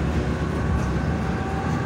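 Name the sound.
tram passing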